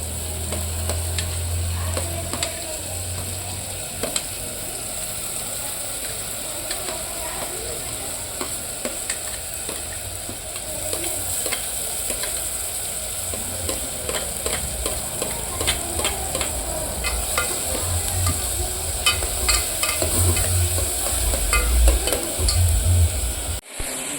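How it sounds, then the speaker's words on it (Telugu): Tomatoes, curry leaves and garlic frying in a pan for a ridge gourd and moong dal dish, a continuous close sizzle broken by repeated scraping stirs of a spoon. "టమోటాలు, కరివేపాకు, తెల్లగడ్డ, ఈ మూడు వేసి కొంచెం తోడు మగ్గనియాలి."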